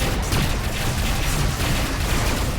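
Spaceship cannons firing in the space combat video game Rebel Galaxy, heard as a dense, continuous barrage of loud, rapid blasts and rumble that never lets up, with no voices over it.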